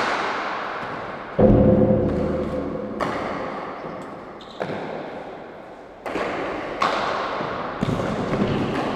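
Hardball handball shots in an All-Ireland senior singles final, the ball thudding sharply off the court walls and floor in a series of loud separate impacts, with some echo in between.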